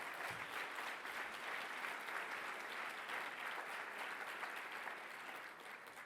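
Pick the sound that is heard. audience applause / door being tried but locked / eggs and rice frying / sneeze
audience applause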